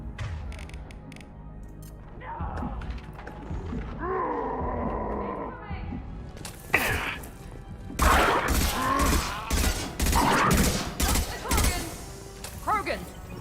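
Heavy gunfire and explosive bursts in Mass Effect, dense and loud, with groaning creature roars and a voice talking over the combat.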